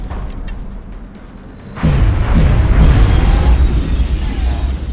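Heavy explosions and gunshots from the XCOM: Enemy Unknown video game, erupting after a quieter lead-in with a loud boom and a sustained, rumbling blast that keeps booming close.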